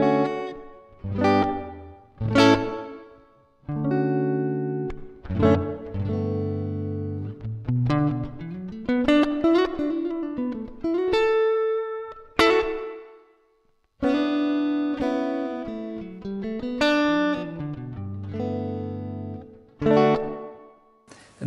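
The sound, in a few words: guitar through plate reverb pedal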